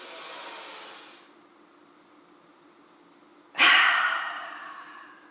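During a yoga exercise, a person draws in a long, deep breath, holds it in near silence, then lets it out in a sudden, forceful exhale that fades away slowly, close and alone.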